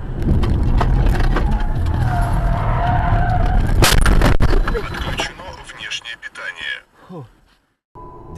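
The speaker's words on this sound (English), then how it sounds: "shows a drunk driver getting into an extremely big car accident" A big drunk-driving car crash caught on a dashcam: loud road noise and tire skidding build to a sharp impact crunch, then scattered clattering debris fades into near silence.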